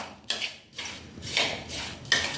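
A spoon scrapes and clinks around a bowl while mixing poppy seed powder with powdered sugar, in uneven gritty bursts at close range with no talk.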